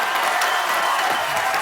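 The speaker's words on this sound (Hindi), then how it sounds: "जोरदार तालियां इनके लिए" Studio audience applause on a Hindi comedy talk show stage, a dense steady wash of clapping and crowd noise running throughout at full level with a faint voice beneath.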